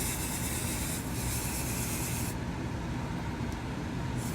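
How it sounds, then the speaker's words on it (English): A hair bond spray is sprayed onto a passion twist style in a continuous hissing burst that drops in brightness partway through, close and alone with no talk. "Spray another layer."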